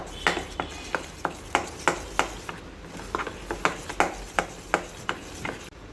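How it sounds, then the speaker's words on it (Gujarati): Surti locho batter being beaten after Eno is added, a steady series of about fifteen close, sharp strikes of a spoon or whisk against the bowl in a regular rhythm, with no talking. "તો આવી રીતે આપણે ઈનો નાખી દઈશું અને બરાબર ફેટી દઈશું."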